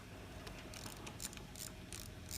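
Wrench ratcheting while loosening bolts on a car starter motor during removal, a steady run of close metallic clicks and bursts over a constant low hum, with no talk.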